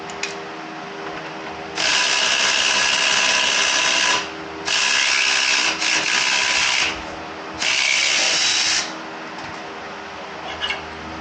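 A ratchet wrench working loose the wheel nut on a Triumph Speed Twin motorcycle in a garage, giving three bursts of rapid clicking separated by short pauses, close and fairly loud.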